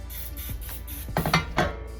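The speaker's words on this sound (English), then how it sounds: "I'm gonna use some Baker's Joy, whatever baking spray." Butter-flavored Baker's Joy baking spray misted into a cake pan: a series of short aerosol hisses, a few soft ones followed by two louder, closer bursts, heard alone without talk.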